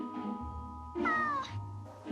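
A cat meows clearly in a quiet room: a rising, drawn-out cry with one shorter call just before and another soft one after, near and alone without talk.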